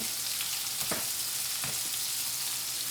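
Mustard seeds frying in hot oil give a steady close crackling sizzle with a few sharper pops, continuous throughout and with no talking.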